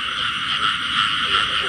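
Frogs croak steadily through the night in a rice field at the start of the season, a dense continuous chorus with no pauses and no voices over it.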